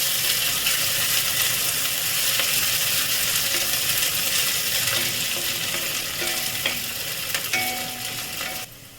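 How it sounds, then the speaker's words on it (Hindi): Onions frying in a pan with crushed ginger, garlic and green chili, a loud, constant sizzle with occasional light stirring clinks toward the end. "यहाँ पे 1 चम्मच अदरक, लहसुन और हरी मिर्च ज़रा कूटा हुआ उसे हम डाल दे रहे हैं और प्याज के साथ इसे भूनेंगे"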